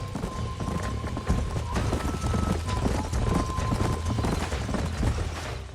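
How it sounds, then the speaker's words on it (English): Horses clip-clop at a steady, busy pace in the Western video game Red Dead Redemption, hooves thudding loud and close throughout with a faint tonal hum behind, no talk over them. "These are fine horses."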